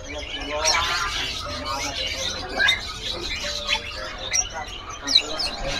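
A caged Foxe songbird at a bird shop gives quick, bright chirps and tweets in short bursts, fairly close, with other birds calling faintly and people talking in the background.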